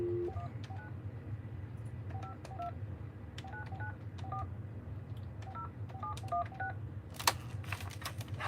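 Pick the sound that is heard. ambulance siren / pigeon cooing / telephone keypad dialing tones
telephone keypad dialing tones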